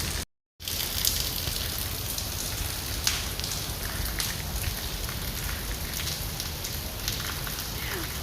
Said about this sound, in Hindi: अब मैं आपको दिखा रही हूँ कि देखें किस तरह से बारिश हो रही है